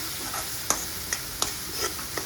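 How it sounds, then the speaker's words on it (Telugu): A spoon stirs mashed potato filling with turmeric in a hot pan, giving a soft continuous sizzle with a few sharp scrape-and-clink knocks spaced about every half second, close by. "ఆలు వేసినా కదా, కొంచెం పసుపు వేసుకోవాలి. బాగా కలుపుకోవాలి."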